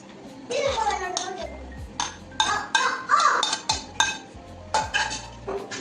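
Mango pieces tossed into a homemade pickle spice mix and stirred in a bowl, giving a series of clinks and scraping knocks of utensil against dish, irregular and close, with no talking.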